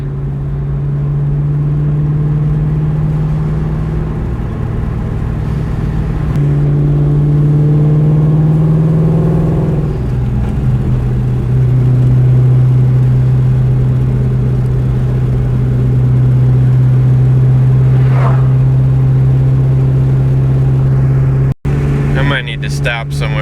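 Sonic Blue Ford Cobra engine holding a steady low drone and rising slightly under light throttle, close and loud inside the car, with someone talking over it.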